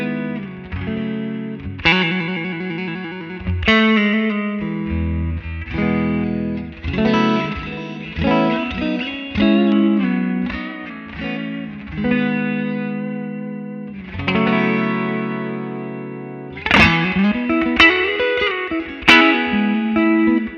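Electric guitar on a basic clean tone just at the edge of breakup, played through a Blackstar amp head with a 6L6 power amp and spring reverb, ringing chords and single notes with a reverberant tail throughout.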